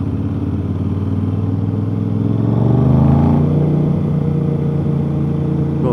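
An Aprilia RS660 two-cylinder, 270-degree motorcycle fitted with a new aftermarket exhaust revs up, the engine swelling to a deep, loud peak and then settling into a rough, throbbing idle nearby, with no voices.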